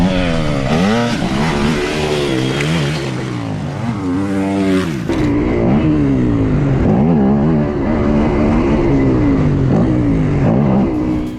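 A 2019 Yamaha WR250F dirt bike engine revving hard through repeated rising and falling accelerations, loud and close, the pitch climbing and dropping with each throttle pull before settling into a steadier drone.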